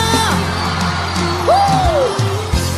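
A live concert crowd in Fortaleza, Brazil, shouts and cheers, with one rising whoop standing out over the loud, steady roar of the audience.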